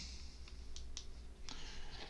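A few sharp, quiet clicks spaced irregularly, like a computer mouse button being pressed, against a low steady background hum.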